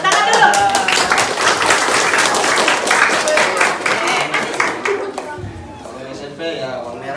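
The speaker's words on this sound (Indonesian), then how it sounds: "Tepuk tangan dulu." A crowd of schoolchildren on a remote island near Makassar claps during a police anniversary visit. Loud, busy clapping runs for about five seconds and then fades, with voices and chatter following.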